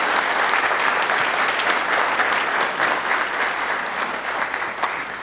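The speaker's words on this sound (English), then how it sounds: "How about a round of applause for that?" Sustained applause fills a city council chamber in Oklahoma City, a steady, even wash of many hands clapping at close range, loud and unbroken for the full length.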